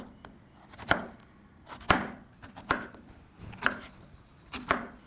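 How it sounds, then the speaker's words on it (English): A knife chops eggplant slices into bite-sized strips on a board, five sharp, evenly spaced strikes about a second apart, close and clear with quiet gaps between. "Then each half is cut into thinner slices. And finally cut into bite-sized strips."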